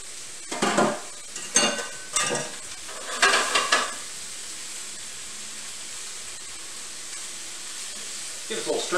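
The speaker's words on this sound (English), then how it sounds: "Give us a little stir fry." Peppers, hominy and garlic being stir-fried at a Mexican street food stall, with bursts of scraping and stirring against the pan that come in uneven clusters over a steady background sizzle.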